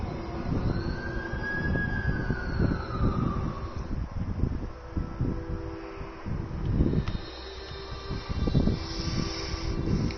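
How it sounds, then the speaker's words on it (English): An ambulance siren wails over heavy low rumbling traffic or engine noise, its tone sweeping up and down, steady throughout. "That's the ambulance I called"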